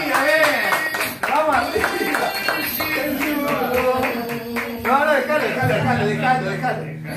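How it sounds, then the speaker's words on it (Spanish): An audience applauds in a radio studio, a continuous patter of clapping that runs under loud talk and laughter from people nearby. "Buen aplauso, amiga, bien."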